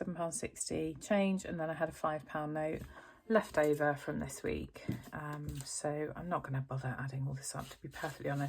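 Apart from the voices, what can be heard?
No everyday noise stands out behind the speech.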